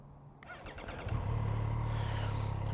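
A 2024 Triumph Street Triple RS motorcycle cranks briefly, fires up and settles into a strong, close idle, with a low steady engine rumble filling the rest of the moment.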